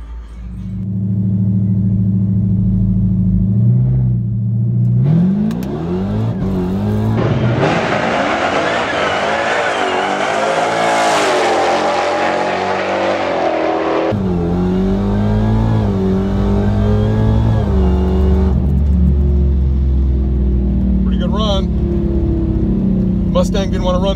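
A race car makes a drag strip pass in an old-school versus new-school Mopar battle between a 426 Hemi Cuda and a Dodge Charger Hellcat: loud close engine rumble builds into hard revving acceleration with rising gear pulls, then backs off to a steady drone.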